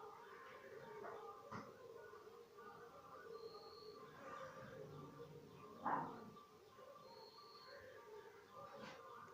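Dogs whimper and yip softly in short, scattered bursts with a louder yelp near the middle, faint and somewhat distant.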